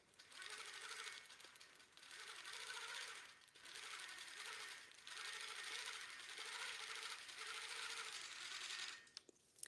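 A longarm quilting machine stitches a circle along a Westalee ruler template, a steady fast whirring hum running in several long passes with brief pauses between them, close and alone.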